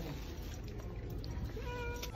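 A kitten gives a few soft, short meows close by, under a noisy shopping-trip background with some talk.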